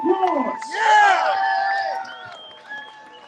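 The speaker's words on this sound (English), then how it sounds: "Give them a round of applause." A crowd at a street protest in Santa Monica, California, cheers and whoops loudly for the Santa Monica police, a burst of mixed voices swelling near the start and then fading over a few seconds.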